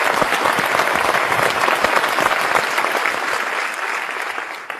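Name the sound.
audience applause saluting Kishan Kumar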